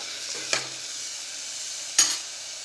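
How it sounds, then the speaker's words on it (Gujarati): Vegetables and potato sautéing in oil for a Surati papdi dish, a soft steady sizzle broken by two brief stirring scrapes, fairly quiet and close, no talking. "આ રીતે થોડીવાર તેલમાં સંતળાશે શાક તો આપણું શાક સરસ બનશે"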